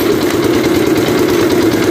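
The engine of an abaca fiber stripping machine runs with its flywheel turning. A loud, steady droning idle continues evenly for the whole clip, with no speech.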